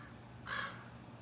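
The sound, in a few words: crow cawing loudly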